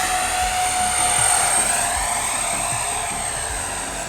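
A Freewing J-10 90mm electric ducted-fan RC jet flies past, a steady loud whooshing whine that swells slightly and then fades a little, with no talk.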